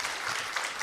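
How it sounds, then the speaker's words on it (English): A conference audience at the EU-Nepal Business Forum 2024 claps for the panelists and moderator: a brief, even burst of dense applause filling the room. "can we have a round of applause for our panelists and our moderator"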